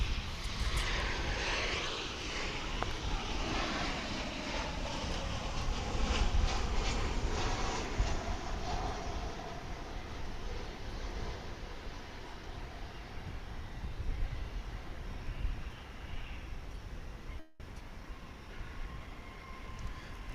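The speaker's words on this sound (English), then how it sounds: "was American Airlines Flight 2540 from Omaha, Nebraska, 737-800." An American Airlines Boeing 737-800 jet at DFW International Airport produces a steady, broad engine roar that holds loud throughout, with a brief dropout near the end, heard from outdoors with no talk.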